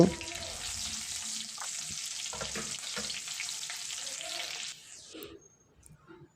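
Chopped ginger and garlic stirred in hot oil in a pan while cooking chili chicken, a loud steady close sizzle with occasional scrapes that stops abruptly, leaving soft faint clatter.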